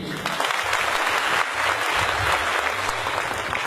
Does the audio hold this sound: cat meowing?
no